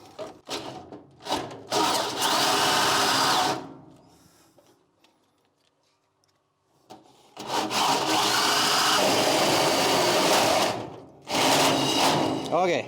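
A power drill bores through the plastic panel of an IKEA Rudsta greenhouse in two loud sustained whining runs separated by a quiet pause, with brief taps at the start.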